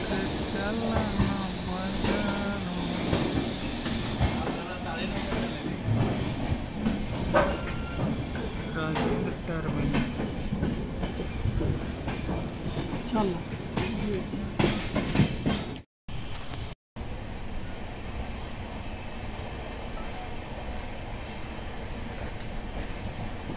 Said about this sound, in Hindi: तो अभी पटना से ट्रेन डिपार्चर हो चुकी है